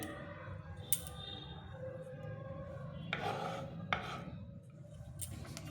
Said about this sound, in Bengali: পেঁয়াজটা একটু কেটে নিলাম